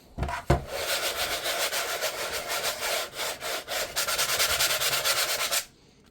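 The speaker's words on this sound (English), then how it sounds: "If you want it to be smoother, you're going to sand some more." Sandpaper rubs across a painting canvas in continuous rasping strokes that hold steady for several seconds, close and fairly loud, then stop abruptly.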